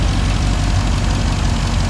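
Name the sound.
2020 Dodge Charger Hemi engine idling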